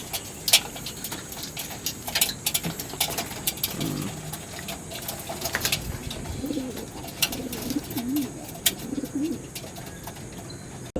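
Pigeons cooing in a loft, soft repeated coos from several birds close by over light pecking, pattering and fluttering as they feed and drink.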